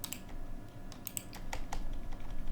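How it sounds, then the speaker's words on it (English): Enter key on a computer keyboard pressed repeatedly during a Farming Simulator 17 session, a string of sharp, fairly close clicks at an uneven pace over a low background hum. "If I start at this end over here, I should be able to just keep pressing enter."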